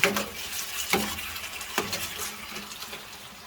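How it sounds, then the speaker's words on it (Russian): Celery, parsley, fried tomatoes and other vegetables are stirred in a paella pan, giving a steady close sizzle with a few sharp scraping strokes of the utensil at intervals, no voices. "И теперь это все перемешивается."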